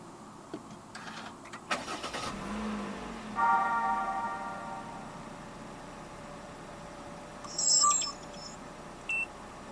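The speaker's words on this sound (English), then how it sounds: "Put your foot on the brake and press the start button located ahead of the gear lever." A 2022 Perodua Alza 1.5 starts by push button: a short starter crank, then a steady low idle from the 1.5-litre engine, with a couple of brief electronic beeps from the car later on.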